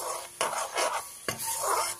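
Thick jaggery is stirred in a pan over low flame for sesame ladoo. Two or three scraping, rasping strokes sound close, each stroke swelling and fading, with no voices.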